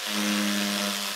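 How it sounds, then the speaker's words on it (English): An electric chisel stripping an old plywood boat deck whines steadily with a high, buzzing hum, sustained and unbroken, moderately close, with no voices. "The electric chisel is fairly easily taking off the old"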